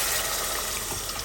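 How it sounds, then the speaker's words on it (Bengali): Hot water gushes steadily into a pot of lentil curry with bottle gourd, a brief, continuous splashing pour heard up close and alone. "এটা মিক্স করার সাথে সাথেই আমি এখানে দিয়ে দিব গরম পানি"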